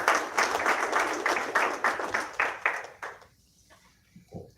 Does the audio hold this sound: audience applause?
yes